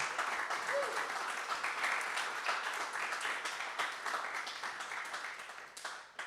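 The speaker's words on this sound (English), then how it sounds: "So another applause for them." Audience applause at a GNOME community conference session in Berlin, a dense, steady wash of many hands clapping that carries on for several seconds before thinning slightly at the end.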